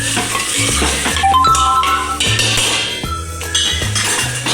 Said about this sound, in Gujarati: તો હવે આપણે આને મિક્સ કરવાનું છે મસ્ત